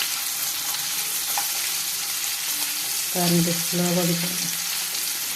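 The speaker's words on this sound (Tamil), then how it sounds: "மீனை இப்படி மாற்றி போட்டு நல்லா வருங்க." Sardine fish fries in hot oil in a pan with a steady close sizzle; a short voice and a few light clinks come through in the middle.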